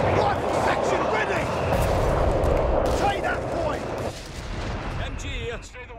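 Machine gun fire rattles across a British forces battle in the WWII strategy game Company of Heroes 3, with heavy, sustained bursts mixed with booming explosions and voices.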